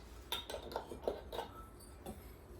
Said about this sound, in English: We're going to stir this with a fork just so it keeps its clumpy texture